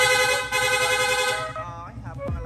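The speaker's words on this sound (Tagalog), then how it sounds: "Rapid horn." A car horn blares continuously and loud, then breaks into quick short honks near the end, up close.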